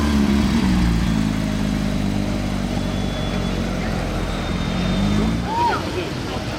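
A Porsche GT3 Touring drives past with a steady, fairly close engine drone that swells slightly and then eases. Voices are audible over the engine.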